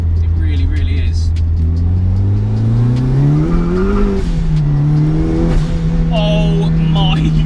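A 300 bhp turbocharged Mazda MX-5 accelerates hard, its loud engine note climbing steadily in pitch with a brief dip, as if shifting gear, then rising again, close and continuous throughout.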